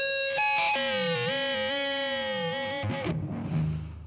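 An electric guitar played through a Thorpy Fallout Cloud fuzz pedal rings out with a harsh, slightly muffled sustained tone. The held notes bend and waver, then break into a rougher, choppier tail near the end.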